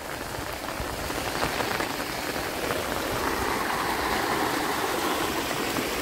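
Heavy rainwater runoff pours from village farm fields down a slope after a cloudburst, a steady close rushing and splashing wash with no letup.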